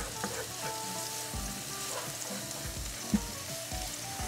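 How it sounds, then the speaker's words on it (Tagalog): Garlic, about eight cloves, sautéing in rendered pork belly (liempo) fat gives a steady, close sizzle with a few faint clinks and one sharp utensil tap near the end, and no voices. "So, medyo i-brown lang natin ng konti, pero wag sobra dahil iwasan nating pumait yung ating garlic."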